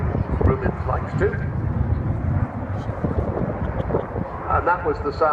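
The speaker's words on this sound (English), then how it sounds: "Rolls-Royce Bristol Olympus 202 engines," The Avro Vulcan XH558 jet bomber takes off at an airshow, its four Rolls-Royce Bristol Olympus 202 engines producing a heavy rumbling roar with wind buffeting, while a voice talks over it.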